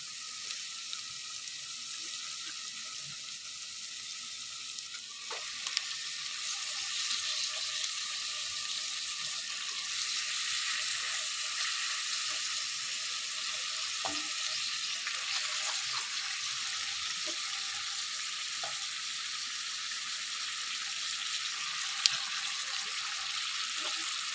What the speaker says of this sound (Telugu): ఇప్పుడు మటన్ వేసినాం కదా, ఒక 2-3 నిమిషాలు కలపకుండా ఇట్లా మీడియం ఫ్లేమ్ మీద మనం ఒక 5 మినిట్స్ వదిలేద్దాం.